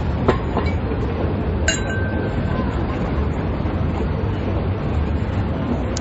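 A glass of Prosecco clinks once in a toast, a bright ringing tap that hangs briefly over a steady background hiss, with a softer tap just before it.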